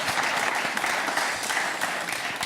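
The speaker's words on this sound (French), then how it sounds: "On l'applaudit bien fort" Steady, enthusiastic applause from an audience at a French live broadcast show, loud and continuous for a couple of seconds, dense clapping with faint voices mixed in.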